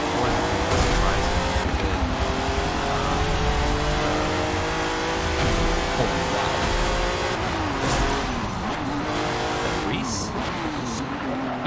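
Racing car engine in the Forza Motorsport video game, a steady high revving drone with shifting pitch and occasional tire squeal, running continuously under people talking.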